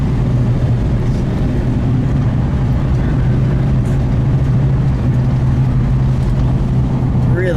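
A 1969 Mercury Cyclone Spoiler with a 351 engine driving, a loud steady low engine drone with road rumble heard from inside the car, with no voices over it.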